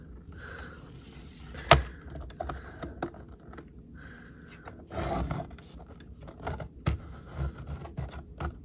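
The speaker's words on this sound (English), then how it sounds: "I have the worst trimmer. It needs to get sharpened so bad." A dull paper trimmer cuts vellum paper close by. The blade slides along with faint rasping scrapes and clicks, and there is a sharp snap partway through.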